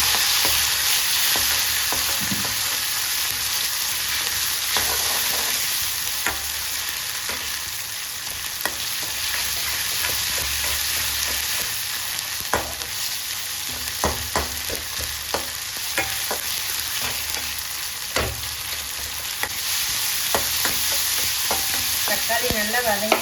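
Onions and spices sauté in hot oil for rasam, with tomatoes added later, a steady close sizzle broken by frequent sharp clinks and scrapes of a stirring spoon against the pan.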